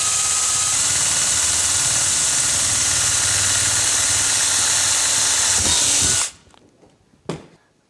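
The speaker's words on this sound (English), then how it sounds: "drill the outside hole" A power drill bores a hole through the outer panel of a Ski-Doo REV snowmobile to mount a new intake vent, running loud and steady for about six seconds before stopping, followed by a brief whir.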